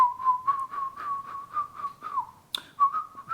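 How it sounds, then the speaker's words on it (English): A person whistles a bouncy tune alone, a clear, bright melody of short repeated phrases, broken once by a sharp slap-like click before the whistling resumes. "How do you do a slap whistle?"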